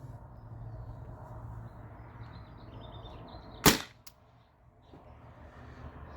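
A T4E TR68 CO2 air gun fires a single round-ball shot, one sharp loud crack with a brief ring, over a steady low background hum, then quiet.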